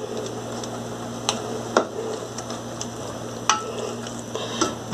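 Spoon stirring chicken cubes with requeijão in a pan, scattered scraping clicks and taps over a low sizzling hum, close and without talk.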